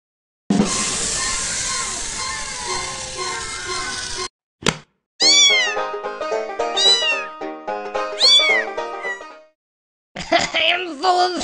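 Cartoon cat meows from the Exploding Kittens card game on Android: a burst of noisy sound, then a quick run of bright, rising-and-falling meows in close succession, loud and near, ending in a short final cry.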